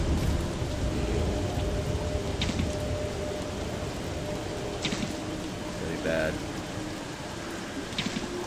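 Steady rain falls throughout in the Don't Starve Together video game, a continuous hiss with a few brief louder bursts, while someone speaks briefly over it.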